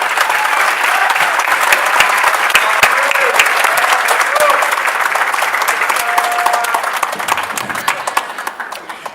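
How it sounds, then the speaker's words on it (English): A crowd at a school district awards ceremony gives a sustained round of applause, many hands clapping densely and loudly for several seconds before thinning out toward the end. "let's give him one more round of applause"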